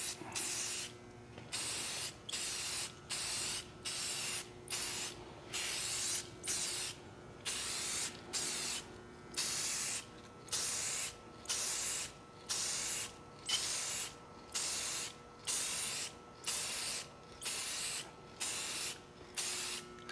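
An aerosol spray paint can on a Testarossa replica gives short bursts of hissing spray, about fifteen in even succession, each lasting roughly a second with brief gaps between. The hiss is loud and close, with no voices.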